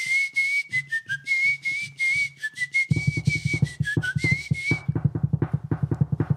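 A person whistles a lively, wavering tune, clear and close, while a rhythmic tapping or drumming on a steering wheel grows louder and faster partway through and carries on after the whistling stops.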